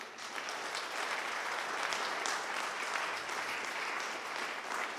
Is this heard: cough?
no